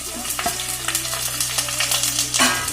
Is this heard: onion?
yes